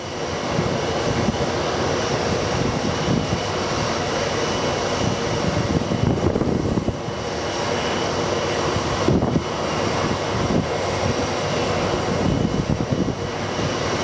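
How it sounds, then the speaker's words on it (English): Wind buffets an outdoor microphone at Sky Harbor International Airport, a loud, continuous rumbling roar that swells and dips in gusts for the whole stretch, with no speech. "The wind is not good for sound,"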